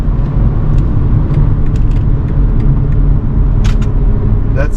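A 2025 BMW 330i sport sedan accelerates hard, its engine a loud, continuous low rumble and drone heard close up from inside the car, with faint ticks over the top.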